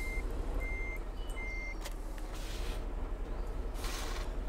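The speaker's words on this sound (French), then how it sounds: "On va aller avec le gros camion sur le champ." Large truck reversing in the Farming Simulator 15 video game: a steady engine rumble with a series of evenly spaced, high reverse-warning beeps running across the clip.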